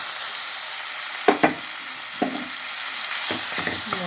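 Ginger garlic paste is stirred into a sizzling curry in a pan, with a steady frying hiss broken by a few sharp scraping stirs of a spoon, close and clear with no talk.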